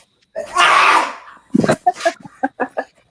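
A loud, drawn-out sneeze rings out, followed by a string of short, sharp snorts and sniffles that come in quick bursts close by.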